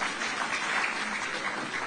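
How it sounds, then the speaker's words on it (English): Audience applause at a Nigerian gathering, a soft, steady wash of clapping heard from a distance with no talking. "I think we can clap for Nigeria"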